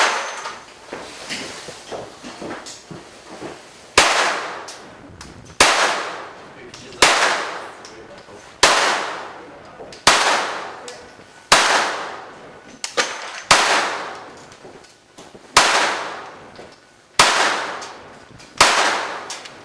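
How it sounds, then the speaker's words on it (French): Gunshots from a firearm at an outdoor shooting range in Estrie, about a dozen sharp, loud reports spaced roughly every one to one and a half seconds, each with a short ringing decay, after a few seconds of quieter handling noise. "J'ai déjà quelques coups de tiré, histoire de me pratiquer pour avoir l'air trop fou."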